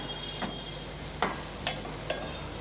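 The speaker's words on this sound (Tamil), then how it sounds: "இப்போ ஒரு மூணு நிமிஷம் நல்லா உருளைக்கிழங்கு அதே எண்ணெயில் நல்லா வறுப்பட்டுடுச்சு பாருங்கள்" Potatoes fry in oil in a pan with a soft, steady sizzle, punctuated by three or four sharp scraping clicks as a spatula turns them, with no talking.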